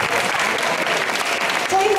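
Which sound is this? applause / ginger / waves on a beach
applause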